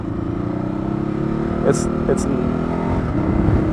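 A Ducati Hypermotard 939 motorcycle engine drones steadily while riding, loud and close with wind noise, shifting up through the gears with two short clicks midway.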